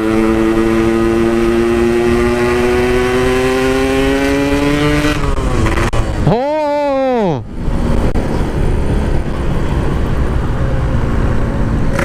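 A Yamaha RX King motorcycle's engine drones loud and close while riding, its pitch climbing steadily, then dropping sharply in a brief gear-change dip before the revs pick back up.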